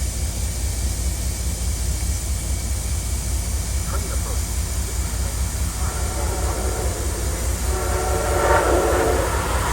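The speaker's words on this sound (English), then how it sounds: "we encounter our first legacy Acela as it passes an MBTA commuter train" An Amtrak legacy Acela high-speed train roars past an MBTA commuter train on the Northeast Corridor in a steady, loud rumble of rail noise, with a horn-like tone rising near the end.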